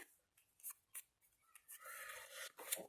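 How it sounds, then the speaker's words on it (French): Scissors snip around the outline of a paper bow for a gift box, a series of short close crisp cuts followed by a longer sliding cut, with no talking. "là je découpe bien à l'intérieur de mon trait puisque je le trouve comme par hasard trop large ce nœud"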